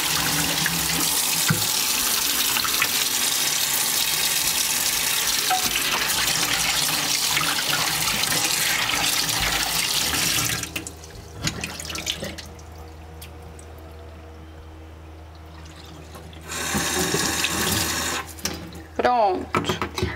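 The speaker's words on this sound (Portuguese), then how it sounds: "eu posso tampar o meu ralo da pia, encher um pouquinho, jogar, logo mais abrir e deixar essa água ir embora" A tap running into a plugged kitchen sink as it fills, a loud rushing splash for about ten seconds, then a quieter stretch before the water noise returns with some handling sounds.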